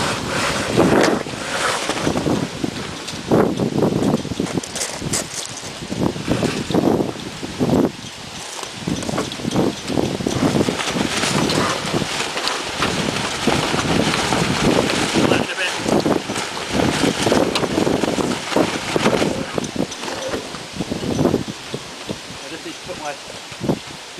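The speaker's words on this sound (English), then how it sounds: "And then I can just hoist the spinnaker up." Spinnaker being hoisted on a Lark Parker MkII sailboat out on the water, with continuous wind buffeting the microphone, lapping waves and rustling sail and line noise, all loud and close throughout.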